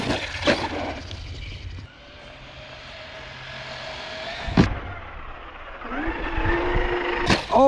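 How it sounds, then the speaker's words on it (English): A Traxxas Rustler or Hoss 4x4 VXL RC truck's electric motor winds up at full throttle, whining steadily in pitch and climbing near the end, with a couple of sharp bangs as the truck lands. "I did a full throttle pull just then, and it wasn't able to correct it in the air."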